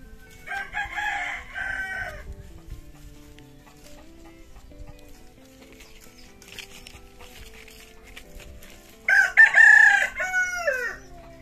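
Chickens crow loudly in two bursts, one at the start and a stronger one near the end, with soft clucking and farmyard noise between them.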